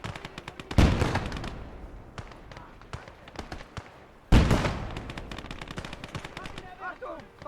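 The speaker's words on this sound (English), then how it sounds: "Ooh, DP gunning us down." DP machine gun fire in a modded war video game, heard as two loud bursts of rapid gunfire with scattered shots and battle noise between them, each burst fading after its sharp start.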